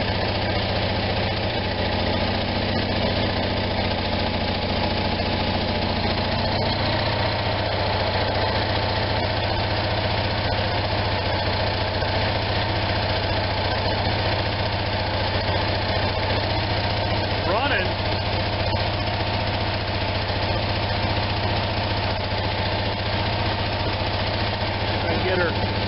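An Onan engine idles after a carburetor rebuild, slightly rich with the choke part-way, making a constant low rumbling drone with a faint knocking texture that runs unbroken and close.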